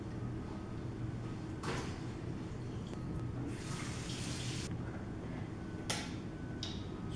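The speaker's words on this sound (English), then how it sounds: "So I'm gonna open this can here right now, and then I'm gonna drain the water" A can of chickpeas is opened and drained of its brine in a kitchen, with a few metallic clicks and bursts of splashing liquid over a steady low background hum.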